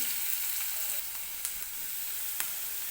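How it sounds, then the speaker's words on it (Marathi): Chopped onion and green chilies sautéing in hot oil in a pan, a constant close sizzle with a couple of faint stirring clicks and no talking. "आणि कांदा असा सॉफ्ट होईपर्यंत आपल्याला तेलामध्ये परतून घ्यायचा आहे व्यवस्थित"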